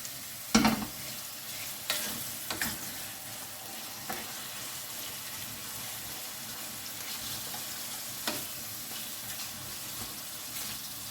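Chicken pieces for a Thai green curry sizzle steadily in a hot pan, with a few louder clatters of stirring near the start and a continuous frying hiss throughout.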